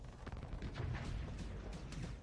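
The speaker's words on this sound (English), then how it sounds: "If we can get really close and use our Vulcan cannon on him." A Vulcan cannon fires in the space combat game Starsector, giving a dense, continuous rattle of rapid shots with rough bursts throughout and no voices.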